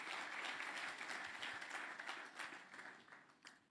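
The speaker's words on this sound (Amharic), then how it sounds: "አጨብጭቡለት ለእግዚአብሔር ክብር" A church congregation claps in sustained, dense applause for a sermon, loud and steady throughout before thinning slightly near the end.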